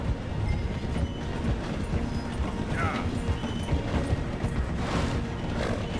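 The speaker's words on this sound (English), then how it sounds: "The train is slowing down to go through the station." A steam train slowing as it passes through a station in the Red Dead Redemption 2 game, with a steady rumble, rolling wheel noise and horse hoofbeats running alongside throughout.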